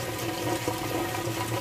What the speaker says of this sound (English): Draining that water out nice and fast.